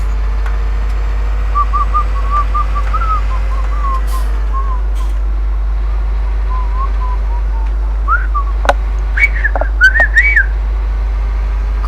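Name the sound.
person whistling while playing Farming Simulator 17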